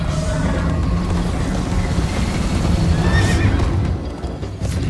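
Horse neighing and whinnying over steady clip-clopping hooves in the Minecraft Story Mode video game, loud and continuous with rain-like background noise and no speech.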